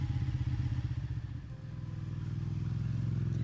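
A motorcycle engine in a video game hums along a freeway in a loud, steady, low rumble that holds for the whole stretch, with no talking.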